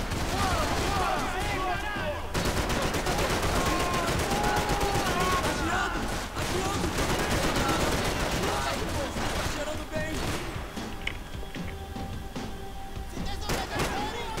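Dense, continuous gunfire and explosions fill a Max Payne 3 shootout, with rapid bursts layered over one another and a loud, unbroken battle din throughout.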